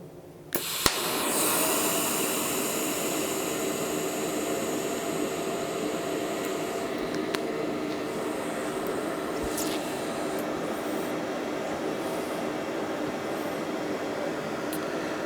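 A worn Winchester 67 rifle bolt is built up by welding. A click switches the welder on, then a steady, close, even hiss carries on, with no talk.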